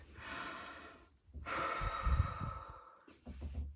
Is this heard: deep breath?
yes